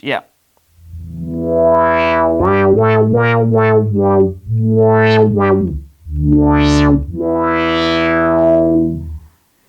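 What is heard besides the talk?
Yamaha Montage synthesizer new mini filter effect, ladder filter emulation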